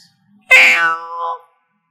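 A cat gives one clear, close meow that rises and then trails off into a softer second note, alone in otherwise silent surroundings.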